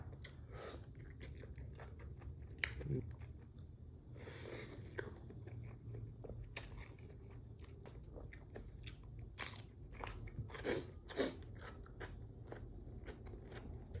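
Close crunchy bites and chewing while eating fresh shrimp, irregular snaps and moist mouth sounds spread through the clip over a low background rumble.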